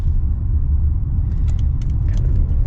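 Inside a 2025 Hyundai Palisade Calligraphy SUV driving at about 4,500 feet elevation, a steady loud low engine and road rumble fills the cabin, with a few faint light jingles near the end.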